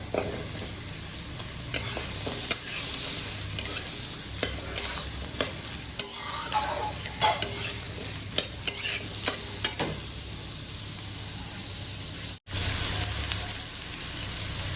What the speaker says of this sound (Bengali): পেঁয়াজটা 2 মিনিট একটু ফ্রাই করে নিয়েছি, এবার এর মধ্যে অ্যাড করে দিচ্ছি আলু